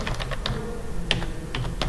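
Keys clatter on a computer keyboard during spreadsheet work, a handful of short close taps spread unevenly across two seconds with no talking.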